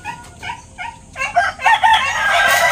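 Backyard chickens cluck in short bursts before a rooster lets out a loud, drawn-out crow nearby, with other fowl calling underneath and no talk.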